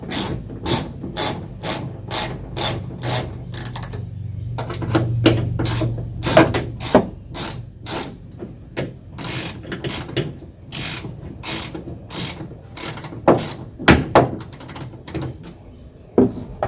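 Rapid, evenly spaced ratchet clicks come in repeated bursts as tail light screws are loosened on a 2016 Ford F-150, close and loud, with brief pauses and a few sharper clacks.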